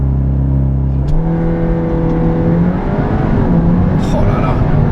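A Volkswagen Golf 8 R with 320 hp launches hard from a standstill, engine note rising steadily through the gears, loud and close from inside the cabin, with a voice briefly over it.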